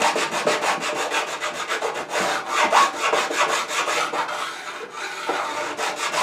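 Pillar file leveling guitar frets near the sound hole, a close, loud run of quick rhythmic rasping strokes that continues steadily without pause or talk.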